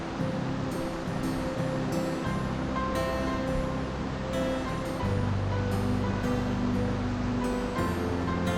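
A cold Himalayan mountain river rushes beside a trail on the Har Ki Dun trek, a dense, continuous roar of flowing water, loud and steady throughout with no voices.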